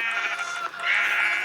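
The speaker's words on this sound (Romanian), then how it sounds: "Atunci omor niște oi" A sheep in Minecraft Pocket Edition gives a short, wavering bleat, close and clear, with no talk over it.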